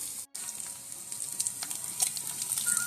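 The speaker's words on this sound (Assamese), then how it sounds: "এইখিনি দি ধুনীয়াকৈ এতিয়া ভাজিম।" Meat frying with browned onions in a little mustard oil in a pan, a steady crackling sizzle with a brief drop near the start, close and alone with no talk.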